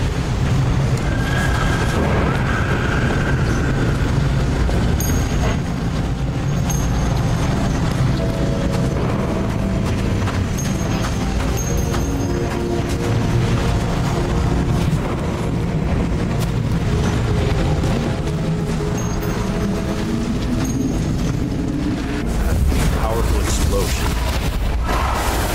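A rumbling train and a heavy explosion in the video game Nobody Wants to Die: a continuous low roar with booming impacts through the middle, dense and loud, building again toward the end.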